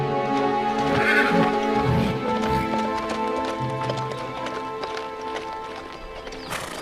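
A horse in a cartoon royal court setting neighs loudly and close, followed by steady clip-clopping hooves, with a faint background music bed running underneath.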